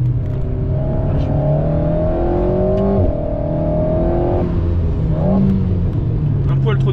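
An Alpine A110S with an aero kit lapping the Clastres race circuit, its engine droning and shifting pitch as it accelerates and eases off, heard from inside the car while people talk.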